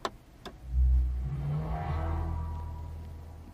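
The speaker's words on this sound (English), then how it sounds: "when you turn the car on, it makes an AMG specific noise" A Mercedes-AMG EQS 53 electric car plays its startup sound: a couple of sharp clicks, then a swelling synthetic engine-like hum that holds and slowly fades, heard alone at close range.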